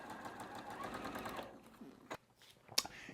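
A sewing machine stitches a 1/4 inch seam on a quilt block, whirring steadily at close range before stopping, followed by a few faint clicks and handling sounds.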